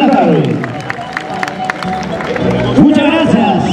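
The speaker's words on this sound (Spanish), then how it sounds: "¡Se le da palmas!" A crowd at a Galanes de Antabamba anniversary gathering claps and cheers steadily for the director, a dense wash of applause with mixed voices and chatter running through it.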